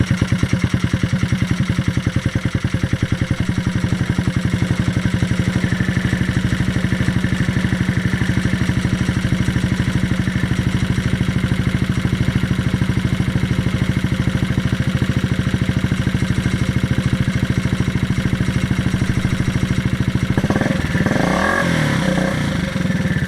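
An old Corral buggy engine, just repaired after a hose fix, runs loud and steady at a close, rattling idle for over twenty seconds. Near the end a brief clattering change breaks into the drone.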